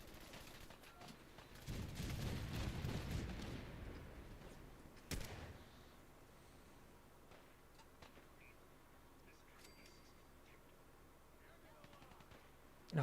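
Cannons in a video game let off a heavy, rumbling barrage of booms for a couple of seconds, then one sharp blast, before fading to quieter background noise.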